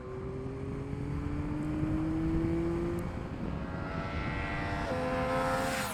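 A Yamaha MT-09 motorcycle engine (2021 model) revs up as the throttle opens, its tone rising steadily and then dropping back before climbing again, a continuous loud drone with wind noise and no talking.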